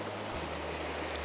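A mountain stream rushes near a small waterfall, a steady dense wash of water noise close by with no breaks.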